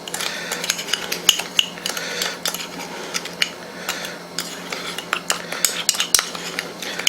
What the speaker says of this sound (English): mix the cinnamon and sugar together.